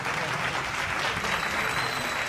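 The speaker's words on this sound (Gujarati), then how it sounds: "આપણે એમને પણ જોરદાર તાળીઓથી વધાવીએ" Audience applause rings out at a community honoring ceremony as a guest is welcomed, a steady, dense wash of clapping from many hands that stays even and unbroken for the whole short stretch.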